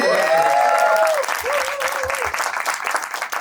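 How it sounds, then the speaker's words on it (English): A studio audience at a comedy show breaks into applause, a full wash of clapping that continues steadily, with a voice briefly heard over it at the start. "Can we have a round of applause?"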